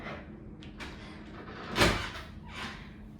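A very thick bathroom door in a rental villa in Sanur, Bali, swinging open or shut with a single soft thud and brief scrape midway, quiet and close, surrounded by faint room noise.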